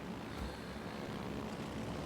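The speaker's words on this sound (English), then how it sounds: "All right, torpedo planes in the air." Torpedo planes launch in a naval video game, a continuous dense propeller-engine roar that stays steady and full for the whole moment, with no talking.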